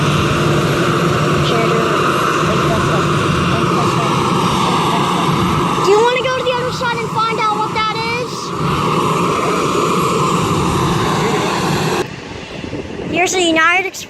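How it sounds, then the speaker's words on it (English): An Embraer 145 regional jet lands at Springfield-Branson National Airport, a loud, steady engine roar that runs throughout, with people chatting nearby over it and the sound briefly dipping near the end. "Express Embraer 145. That's what landed."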